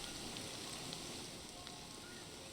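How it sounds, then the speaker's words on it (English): Rain falls steadily in the video game Rust, an even, dense hiss that stays constant and fairly soft throughout, with no voices over it. "Oh, hear the sound of the rain change?"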